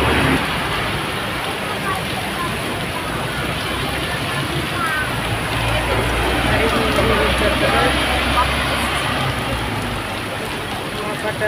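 Dense, steady downpour hissing continuously, loud and close, with a low rumble underneath and no pauses.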